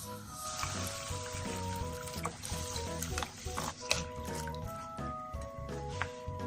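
Water pours into a pot of ground pork and ginger sautéed together, gurgling and splashing faintly. Steady kitchen noise and soft tonal background sounds run underneath.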